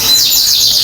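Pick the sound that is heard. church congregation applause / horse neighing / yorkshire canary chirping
yorkshire canary chirping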